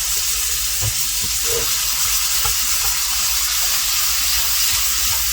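Ground beef frying in a hot pan, a steady loud sizzle and hiss with a few soft thuds and scrapes of a spatula, close and continuous.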